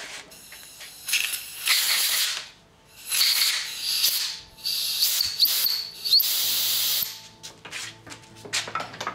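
Compressed air blasts into a freshly tapped blind hole in metal, several loud hissing bursts of a few seconds each with brief pauses between them, close and strong, with a faint whistling edge.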